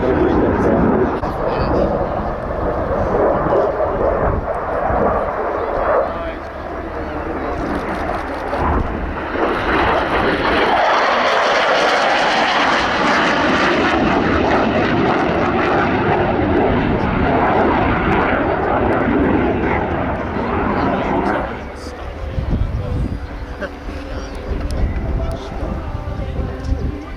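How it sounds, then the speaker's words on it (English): Fixed-wing aircraft flying at the RIAT air show, a loud continuous engine roar that swells and peaks mid-pass before easing off, heard under crowd and commentary noise. "This aircraft is the same one displayed here last year"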